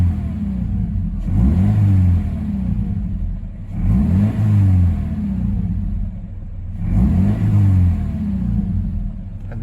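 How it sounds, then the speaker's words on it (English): A first-generation Subaru BRZ sports car engine, fitted with a 2022 second-generation OEM oil cooler, revs up three times in close succession, each rise a loud rumbling surge that holds briefly then drops back to a steady idle. "Then I'm gonna give it some revs."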